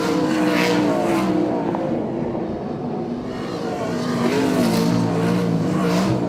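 Race cars roar around a circuit at a War of the Wings round in Invercargill, a dense continuous engine drone that swells and fades slightly as the field passes, with no voices.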